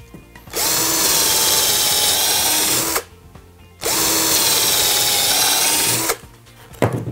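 A power drill runs twice in sustained high-pitched whirring bursts, drilling pilot holes in wood, each about two and a half seconds long, close and loud, with short quiet gaps between.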